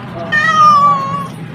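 A pet cat gives one clear, drawn-out meow close by, loud and rising then falling, over faint room noise with no talking.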